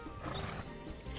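Horse in the Alicia Online video game gives a short whinnying neigh, close and clear, over a soft game background with no talk.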